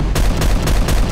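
Rapid gunfire from a Velociraptor island video game, a dense run of loud, close shots repeating quickly over about a second.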